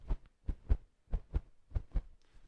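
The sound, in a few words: heartbeat sound effect made by rubbing a t-shirt on a microphone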